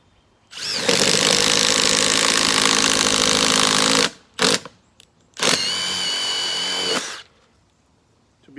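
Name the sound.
Milwaukee impact driver drilling with a 1-inch spade bit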